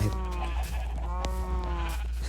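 Sheep in a Minecraft farm give short, repeated bleats, moderately loud over a low hum of game sound, with no talk.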